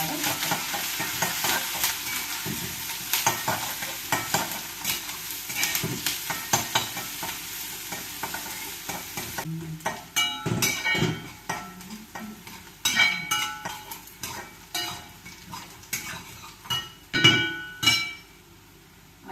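Ginger, onion, green chilli, carrot and curry leaves fry in a pan for upma, giving a steady close sizzle with stirring scrapes; after about ten seconds the hiss fades and sharper clinks and spoon knocks take over.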